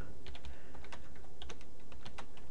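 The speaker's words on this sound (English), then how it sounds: "I've been typing it." Rapid typing on a computer keyboard, with close, crisp key clicks in an irregular stream over steady background noise and no talking.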